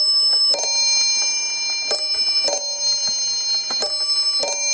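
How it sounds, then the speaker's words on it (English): German dual chime mantle clock striking the hour, with loud, close, ringing chime tones repeating at regular intervals, each strike leaving a sustained metallic ring. "I want you to hear the hour strike on this in case I miss it."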